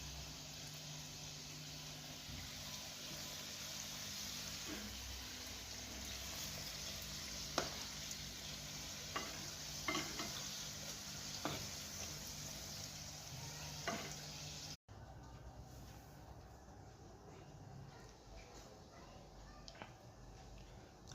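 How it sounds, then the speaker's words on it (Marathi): Karanji pastries fry in hot oil with a continuous soft sizzle, broken by a few faint clicks and knocks. The hiss drops noticeably quieter toward the end, and no one speaks. "तळणे सुरू."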